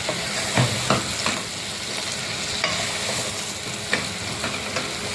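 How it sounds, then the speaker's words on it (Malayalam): Okra and egg curry stirred and frying in a pan, a steady dense sizzle with scattered scraping clicks of the spoon, close and continuous with no talk. "ഇനി നമ്മൾ ഇളക്കി എടുത്തിട്ടുണ്ട്."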